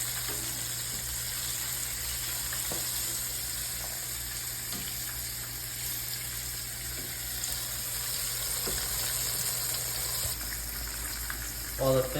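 Fish fries in hot oil with a continuous, even sizzle and hiss that holds steady throughout, with a few soft clinks and bumps near the end.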